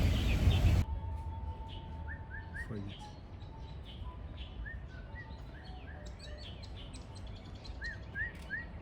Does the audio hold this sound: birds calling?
yes